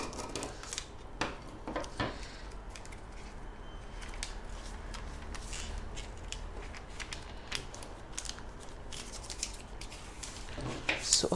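Scissors snip through a paper sewing pattern for a basic bodice, a steady run of soft crisp cuts and paper rustles, close and fairly quiet throughout with no talking.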